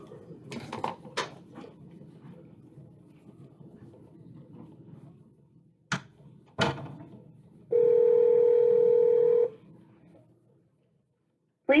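A telephone call gets under way: a few handling clicks and soft rustles come first, then a steady dial tone holds for about two seconds before cutting off, and a brief tone starts at the very end.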